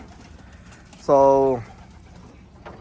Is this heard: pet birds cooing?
yes